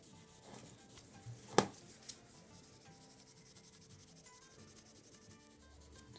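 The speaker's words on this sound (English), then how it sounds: "Just need to polish that last little bit off because it's just sat there." Hand-polishing the crankshaft of a Yamaha Virago XV535 motorcycle that had seized: a faint, steady rubbing and scraping close by, broken once by a sharp click.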